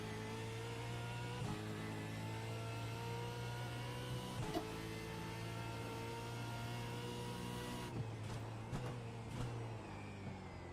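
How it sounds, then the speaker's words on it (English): A V8 Supercar at Belle Isle in the iRacing game drones with a steady engine tone, and sharp blips mark several quick downshifts under engine braking into a corner. "I'll put that downshifting engine braking into that corner"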